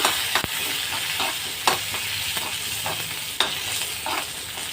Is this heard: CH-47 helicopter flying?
no